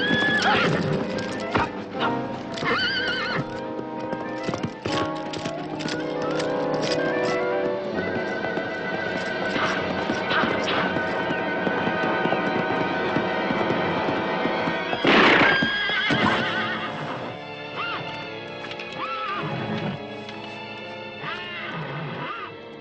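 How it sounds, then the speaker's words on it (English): A horse from a 1968 historical drama film neighs and whinnies repeatedly while its hooves clip-clop steadily, loud and close, with a burst of sound mixed in midway. "Good horse you had there."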